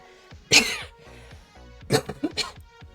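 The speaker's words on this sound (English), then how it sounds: "Got a bit of a cough today" A sharp cough followed by a couple of quicker coughs a moment later, close and fairly loud, with no talking.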